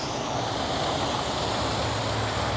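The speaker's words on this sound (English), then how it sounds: "Got a little waterfall feature on the canal here." A small waterfall spills into the Western Canal, which carries Salt River water, giving a steady, dense rush of falling water heard up close with no voices.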